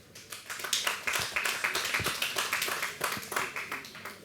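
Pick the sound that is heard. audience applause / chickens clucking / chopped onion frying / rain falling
audience applause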